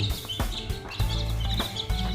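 Two-week-old Sebright chicks cheep and peep close by in quick high chirps, with soft clucky rustling and handling noises underneath and no speech.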